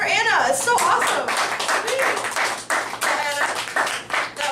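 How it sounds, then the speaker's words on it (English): Close, loud claps and applause follow a performance at an open mic night, while people talk and cheer over the clapping. "One more round of applause for Anna."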